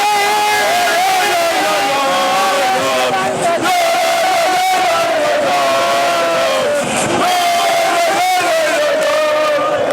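Sakaryaspor and Göztepe football supporters chanting in a packed stadium at a season-opening match, a loud, sustained roar of massed voices with melodic chant lines rising and falling throughout.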